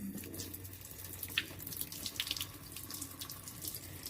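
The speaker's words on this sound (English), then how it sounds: "It's taking a little longer for the water to heat up." Tap water runs steadily into a basin while it warms for a bath, a soft continuous splashing rush with a few faint drips and clinks.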